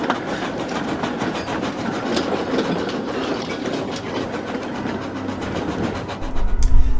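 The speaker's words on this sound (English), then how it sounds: "the other engines left the station with their trains right on time" Trains pulling out of a station yard, a steady mechanical clatter of wheels and rods rolling on, with a louder low rumble building near the end.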